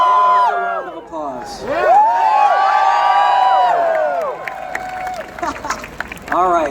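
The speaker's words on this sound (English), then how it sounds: "Another round of applause." Audience applause and cheering at an Avengers Infinity War movie event, a loud crowd clapping and whooping steadily under and around talking voices for several seconds.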